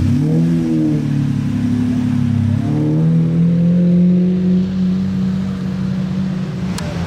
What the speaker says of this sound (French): Ouh, ça résonne le V12.